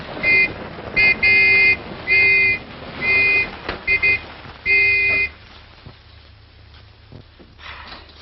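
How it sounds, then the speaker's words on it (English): A car horn honks in a series of loud, buzzy bursts of uneven length over a low engine rumble, then gives way to quieter scattered knocks and rustling. "Hey, sounds like another car."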